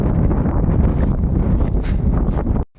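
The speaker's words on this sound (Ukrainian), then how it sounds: "Вітер такий добрий. В тракторі сидів, аж трактором хитає." Strong wind buffets a tractor during a soybean harvest, a loud continuous roaring rumble against the microphone that cuts off sharply at the end.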